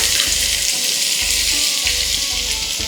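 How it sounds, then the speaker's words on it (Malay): Onions frying in hot oil, the start of a jenahak fish curry, give a loud, steady sizzle throughout with a low rhythmic hum pulsing underneath and no voices. "Kita tumiskan bawang besar"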